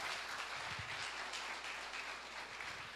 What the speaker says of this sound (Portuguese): Pode aplaudir o Senhor, porque Ele nos curou.